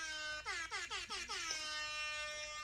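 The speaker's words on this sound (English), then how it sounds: "doing air horn again" An air horn goes off during a gaming-show stream: a bright, blaring blast that stutters through several quick pulses, then holds one long, steady tone that fades gently at the end.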